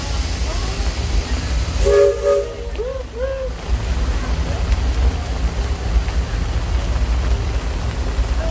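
The Disneyland Railroad's No. 4 train rolls along in the rain on Christmas Eve with a continuous low rumble, and a few short whistle blasts sound early on.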